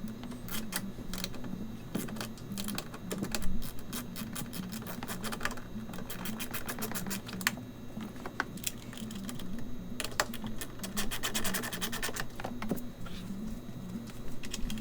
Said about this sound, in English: Tighten those screws again.